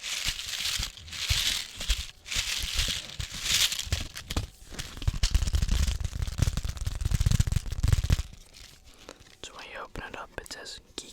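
Paper crinkles and tears as a birthday card is pulled from its envelope and opened, crisp and close-miked, with soft whispered talk over the handling.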